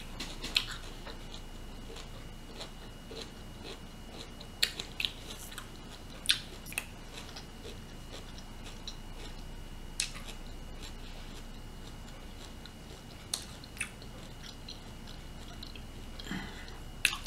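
Chewing broccoli close to the mic while eating a seafood meal with firecracker shrimp, with crisp, irregular crunches and bites scattered over a quiet background.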